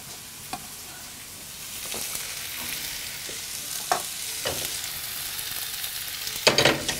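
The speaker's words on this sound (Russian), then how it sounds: "слегка обжарить" Mushrooms frying in a pan give a steady, soft sizzle throughout, broken by scraping stirs and a few clacks of a utensil, with a louder scrape near the end and no talking.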